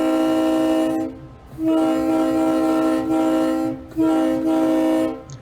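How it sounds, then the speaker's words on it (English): A Leslie RS-52 locomotive air horn sounds loud and close in three long chords with short gaps between them. "I got to blow a Leslie RS-52 air horn."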